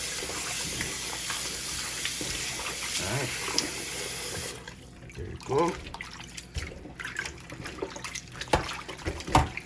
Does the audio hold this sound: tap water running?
yes